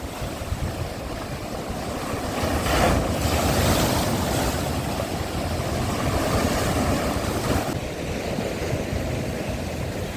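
Stormy sea waves crashing against the shore at Arkadia in Odesa, a loud continuous roar with surging swells and heavy wind buffeting the microphone, no talking.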